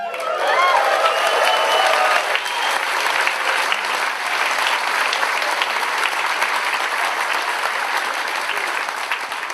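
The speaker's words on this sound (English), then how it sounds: "one more time, big round of applause and a massive cheer for our guest of honor" A big crowd at a ConFuzzled 2018 convention closing ceremony claps loudly and continuously, with a few cheers and whoops rising near the start before settling into steady applause.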